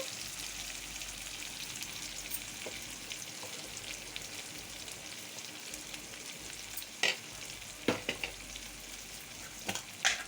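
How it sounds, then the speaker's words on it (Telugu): Chicken pieces frying in oil for a lightly spiced chicken fry, a steady close crackling sizzle throughout with a few sharper stirring clinks toward the end and no talking. "ఆయిల్లో మంచిగా ఫ్రై అవుతూ ఉందండి."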